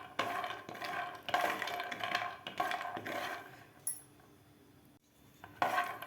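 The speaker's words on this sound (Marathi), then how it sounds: "आपल्याला मिडियम गॅसवरच हे शेंगदाणे भाजायचे आहेत" Peanuts roasting in a pan over a medium gas flame, heard as repeated metallic scraping and rattling bursts of nuts being stirred against the pan, with short pauses in between.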